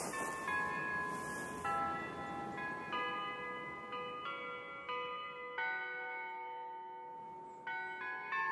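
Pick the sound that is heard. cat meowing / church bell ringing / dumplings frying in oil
church bell ringing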